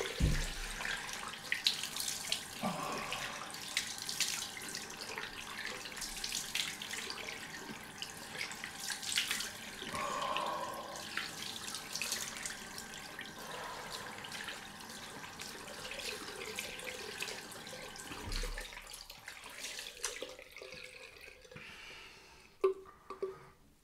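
A tap runs steadily into a sink for a cold rinse after a wet shave, water splashing close by with small shifts as hands move through the stream, then it cuts off near the end, leaving a faint drip.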